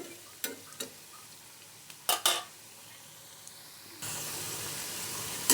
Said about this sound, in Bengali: আমার এই পাকোড়াগুলি ভাজা কমপ্লিট হয়ে গেল এখন আমি তুলে নিচ্ছি